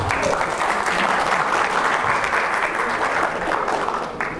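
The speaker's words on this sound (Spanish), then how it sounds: "Recibámoslo con un fuerte aplauso." An audience at a lecture on isotope hydrology gives a speaker a welcoming round of applause, full and continuous crowd clapping that holds steady and only begins to thin toward the end.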